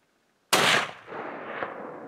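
A rifle shot cracks out loud and close during an elk hunt, breaking half a second of silence, then trails into a long echoing rumble that rolls across open country.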